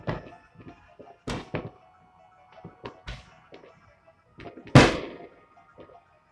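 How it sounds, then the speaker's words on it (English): Fireworks pop and crack outside in a scattered series of sharp bursts, mostly moderate with one much louder bang near the end, separated by short quiet gaps. "these fireworks have got my nerves shot the fuck up."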